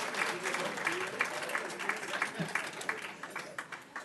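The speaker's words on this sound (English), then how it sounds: "Let's give them a round of applause." Workshop audience of teacher centre managers giving a round of applause, fairly faint and distant, a steady crowd clapping that thins toward the end into separate claps.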